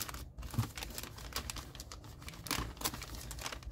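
Packaging for a press-on nail mail order is folded around the nails, making a soft, continuous crinkling and rustling, faint and close, with no talking.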